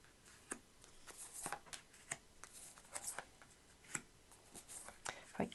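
Tarot cards, including an Art of Manifestation deck, shuffled and moved around, giving crisp riffling flicks and soft slides in irregular bursts close up with no talking.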